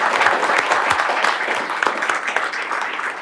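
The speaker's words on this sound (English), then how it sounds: "we would give all these folks a round of a hand right now for showing up" An audience at a meet-the-candidates event for a US House district race applauds the Republican candidates, a loud sustained crowd clapping that fills the space from start to finish.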